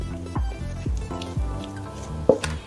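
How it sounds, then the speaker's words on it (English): Thick, stiff chocolate icing is spread over an apple slice in a kitchen, giving soft, close squishing and smearing strokes in a slow, repeated rhythm with a few sharper taps near the end. "then I'll put the icing on top of the slice."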